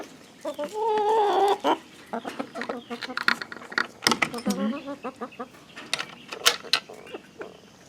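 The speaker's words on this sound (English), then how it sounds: "Let the chickens out." Chickens cluck and squawk close by in a busy, irregular stream, with one longer warbling call near the start and some low voices mixed in.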